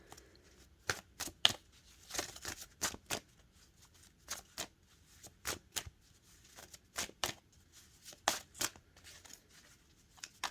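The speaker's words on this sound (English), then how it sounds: "let me switch over to the Archangel Michael Sword of Light cards." Archangel Michael Sword of Light oracle cards are shuffled by hand in a quiet room, with repeated soft riffling bursts in an uneven rhythm and brief pauses between them.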